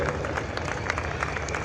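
Steady applause from spectators at a Republic Day parade as an army major marches past the saluting dais, a dense continuous patter of clapping with crowd noise and no pauses.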